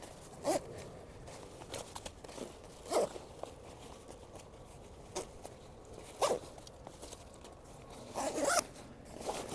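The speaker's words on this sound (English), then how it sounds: "Zip the bag up." A bag zipper is pulled shut inside a Stone Glacier Sky 5900 backpack, a series of short, close zipping strokes spaced a couple of seconds apart with faint fabric rustle between, ending in a quicker run of pulls.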